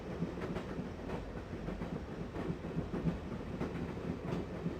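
Train rolling on rails in the Broken Sword video game, a steady rumble with rhythmic clickety-clack wheel beats throughout, heard alone at moderate level.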